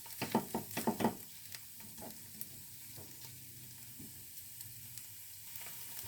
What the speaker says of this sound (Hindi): इसे भी मिक्स करने के बाद आपने तब तक भूनना है जब तक कि इसका मॉइस्चर ना ख़त्म हो जाए